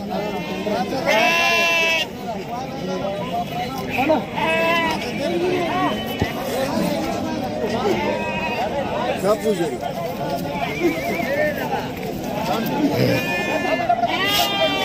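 Sheep bleat repeatedly at a busy goat and sheep market in Sangola, with several overlapping calls near and far over constant crowd chatter and people talking.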